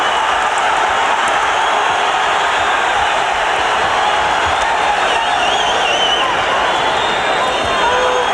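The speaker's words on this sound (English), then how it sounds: "Largely Mexican-American Texan crowd on its feet, rooting for Gonzalez" A largely Mexican-American Texan crowd at a boxing match, round 5 of Kevin Kelley vs Alejandro Gonzalez, on its feet cheering for Gonzalez: a steady, dense roar throughout, with a commentator talking over it.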